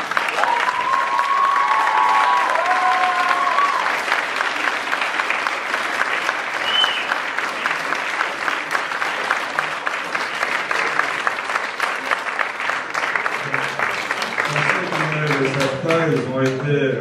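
Sustained audience applause, a dense steady wash of many hands clapping throughout, with a few voices briefly audible under it near the start and end.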